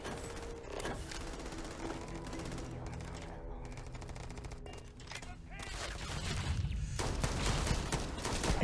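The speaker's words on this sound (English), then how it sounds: "I would imagine it's this ransacked research outpost where I hear gunfire." Gunfire in the video game Starfield around a ransacked research outpost: rapid bursts of shots and mechanical clatter mixed with game sounds, fairly dense and continuous, growing louder toward the end.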